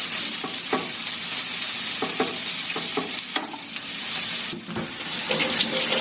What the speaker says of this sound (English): I'm going to put my eggs in.